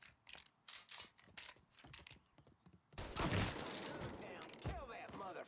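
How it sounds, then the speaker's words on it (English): Weapon reloading and ammo switching in the game Mafia III: a series of quick metallic clicks and clacks, followed by a burst of heavier noise and gunfire-like crackle, fairly faint. "Switching out ammo."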